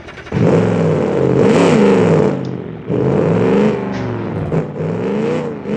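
Carbureted drag car under 2,000 pounds in BeamNG, engine roaring loud and near through two long revs up to a high whine, dropping briefly between them, then settling to a rough idle-like drone.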